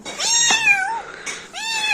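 A cat gives two loud, drawn-out meows close by, one right after the other with a brief pause between.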